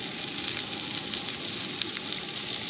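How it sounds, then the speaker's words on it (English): Kielbasa, seasoned with pepper, sizzles as it sautés in a greased pan, giving a steady, close crackling hiss with tiny pops throughout. "I'm going to saute these."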